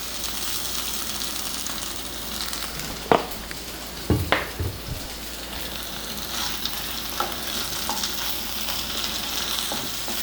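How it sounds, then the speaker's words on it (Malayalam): Brinjal and potato frying in coconut oil in a pan, a steady close sizzle throughout with a few sharp clinks and stirring knocks early on. "ഇനി കുറച്ച് വെളിച്ചെണ്ണയും കൂടെ ഒഴിച്ച് നമുക്കൊന്നും കൂടെ ഒന്ന് മൊരിയിച്ചെടുക്കാം"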